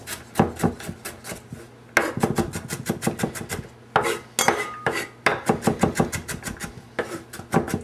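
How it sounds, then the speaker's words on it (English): A knife chops vegetables on a cutting board for tuna croquettes: rapid, crisp, rhythmic strikes in several quick bursts separated by short pauses, close and clear with no talking. "give them a little extra chop"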